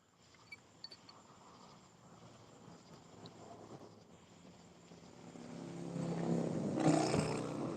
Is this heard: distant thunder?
yes